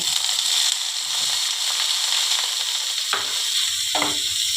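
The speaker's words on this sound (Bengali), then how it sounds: "পনিরগুলো একটু ভেজে নেব" Paneer pieces fry in hot white oil with a loud, continuous sizzle, broken by a couple of scraping stirs near the end.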